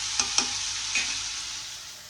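Potatoes frying in a pan for aloo fry give off a soft, steady sizzle, with a couple of small pops near the start; no one talks.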